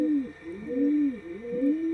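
A Pakistani high flying pigeon with a very short beak coos in repeated soft, rolling phrases, close and steady against a faint background hum, with no talking.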